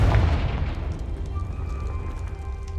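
A Confringo fire spell explodes in Hogwarts Legacy with a loud, close boom at the start that fades into a long rumbling, crackling tail with a faint ringing hum.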